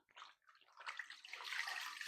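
Hot water runs from a tap during shaving at home, a short rushing, splashing stream that starts in small spurts and then settles into a steady flow. No one speaks.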